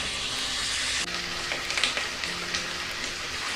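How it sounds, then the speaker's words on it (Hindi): Onion frying lightly in a pan for a mutton leg roast makes a loud, dense hiss that briefly dips and then continues with soft stirring crackles, close and steady. "प्याज को हम सिर्फ हल्का सा पकाएंगे कि थोड़ा सा कच्चा पक्का हो जाए"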